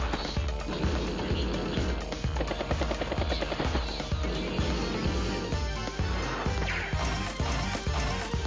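A battlecopter helicopter unit in Advance Wars: Days of Ruin, its rotor effect a rapid, rhythmic chopping thud repeating steadily over game music, loud and close with no voices.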